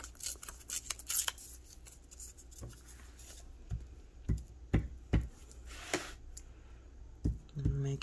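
Scissors cut through paper while an envelope booklet is being made, giving a series of crisp, close snips and rustles at an uneven pace, with a person talking alongside.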